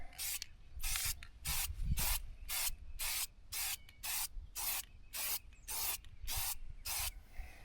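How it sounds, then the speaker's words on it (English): Rust-Oleum custom premium matte red lacquer sprayed from an aerosol can onto a wheel in about a dozen short, evenly spaced hissing bursts, close and fairly quiet, with no talk. "Now we're going to hit it with some of this Rust-Oleum custom premium lacquer in a matte red. So I'm just going to throw a few coats on here."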